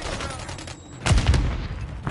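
Gunfire from a first-person shooter, Call of Duty Modern Warfare III (2023), a short loud burst of rapid shots after a quieter lead-in, with faint game ambience and no talking.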